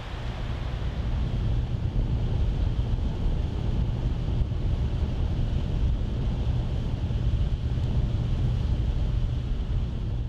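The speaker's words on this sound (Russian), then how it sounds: "Быстроходный катер заповедника следует по своему регулярному маршруту." A fast nature reserve patrol boat runs along its route, a steady, low engine and hull rumble mixed with wind buffeting and water noise, continuous and moderately quiet throughout.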